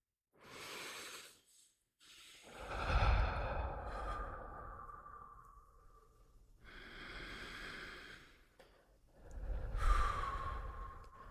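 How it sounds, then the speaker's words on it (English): A person takes a few slow, deep breaths during a guided visualization exercise, each inhale and exhale clearly audible as soft breathy rushes separated by short pauses, close and alone. "I'm going to take a few breaths."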